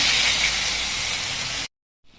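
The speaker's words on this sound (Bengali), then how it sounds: "এর মধ্যে এখন আমি দিয়ে দিচ্ছি আদা, লঙ্কা, রসুন পেস্ট।" Ginger, chilli and garlic paste hits hot fried onions with a loud, even hiss that runs for under two seconds, then cuts off abruptly into silence before a faint return.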